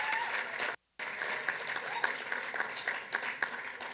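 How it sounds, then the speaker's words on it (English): Gala audience bursts into sustained applause, a dense wash of many hands clapping that breaks off for an instant, then carries on strongly and evenly to the end. "Let's give him a big round of applause"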